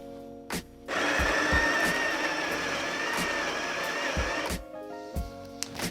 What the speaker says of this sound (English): you can grind coffee directly into it to weigh it